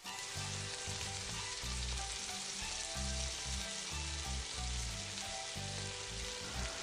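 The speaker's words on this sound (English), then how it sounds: "Continue to cook the pork until it is no longer pink." Minced pork frying in a pan for Vietnamese rice dumplings, a loud constant sizzle with rhythmic scraping and clatter as a spatula stirs and breaks up the meat, close and steady throughout.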